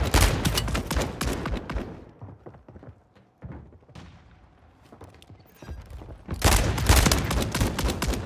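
Gunfire in the video game Call of Duty Warzone 3, at Fortune's Keep: dense, rapid bursts of shots at the start, a quieter stretch with scattered single reports, then another loud, sustained volley at the end.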